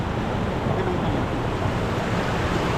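Strong river current and rushing waves near a bank, a steady, loud broadband roar that runs without break from start to finish.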